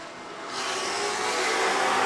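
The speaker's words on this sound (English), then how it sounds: "a host of muscle cars heading for the start" Broad engine roar that swells after a brief quieter start, several muscle cars accelerating together toward the start of an SVRA race at VIR, staying loud and steady throughout.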